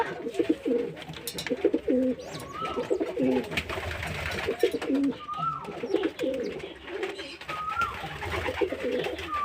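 Pigeons in a loft coo repeatedly in soft, rolling calls, several birds overlapping close by against a busy background of rustling and shuffling.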